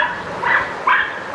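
A dog gives two or three short, close yips or barks in quick succession, fairly clear against a quiet background.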